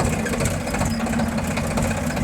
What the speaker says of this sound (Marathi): इथं माझा भाऊ ट्रॅक्टर चालवतोय, बघू शकता